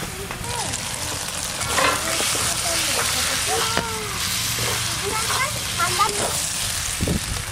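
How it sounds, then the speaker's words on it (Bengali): Fried tomatoes go into a spice masala and are stir-fried in a pan for a pangas fish curry, giving a loud, continuous sizzle with scraping stir strokes throughout. "মশলা খুব ভালো করে কষে নিয়েছি, এবার ভেজে রাখা টমেটোগুলো দিয়ে দেবো।"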